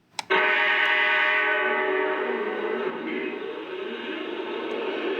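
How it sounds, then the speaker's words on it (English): A Lionel model train locomotive sounds off after its ID change with a sharp click, then a loud sustained horn blast that holds steady and slowly fades a little. "At this point, we should hear the locomotive sound off."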